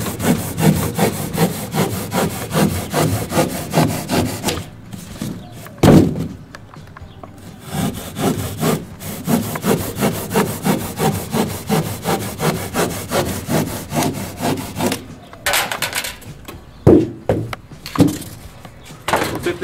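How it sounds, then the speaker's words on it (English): A regular hand saw cuts through an ICF foam block in quick rhythmic back-and-forth strokes, close and rasping, with two brief pauses between bursts of sawing. "I prefer just a regular hand saw. And we're going to cut through the block."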